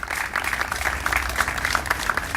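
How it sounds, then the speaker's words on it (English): A round of audience applause at a launch event for a cycling program: steady, fairly quiet clapping from a modest group, heard at some distance and sustained throughout. "let's give everyone a tremendous round of applause for all of their work and efforts"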